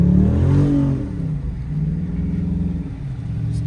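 A Dodge Charger's engine revs hard as its tires spin on snow during a winter storm. The whine rises at first, then settles into a sustained, close drone with no grip.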